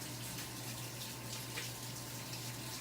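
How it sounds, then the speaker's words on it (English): Kitchen tap water running steadily while hands are washed during cooking, a continuous close hiss and splash with no talking. "Just gotta wash my hands off"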